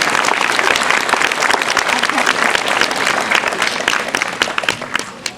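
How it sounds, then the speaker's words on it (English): Audience at an elementary school graduation ceremony gives a loud, sustained round of applause, dense steady clapping from a large crowd that tapers slightly at the end. "Let's give them a round of applause."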